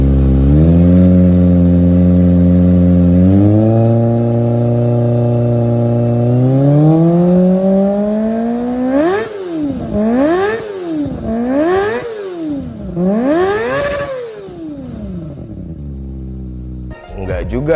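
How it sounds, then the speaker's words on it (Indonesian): A Kawasaki ZX25R sport motorcycle engine revs up steadily, then throttles in several sharp, rising and falling bursts, loud and close. "motor itu suaranya doang ya yang kenceng?"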